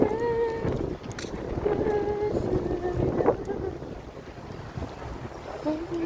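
Steady wind buffets the microphone outdoors beside a creek, a continuous broadband rush with gusty swells, while a person talks casually over it.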